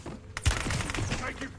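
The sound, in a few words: gunfire in video game Call of Duty Warzone, Verdansk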